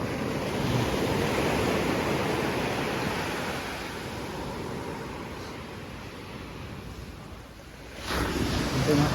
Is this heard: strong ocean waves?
yes